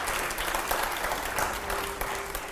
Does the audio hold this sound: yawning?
no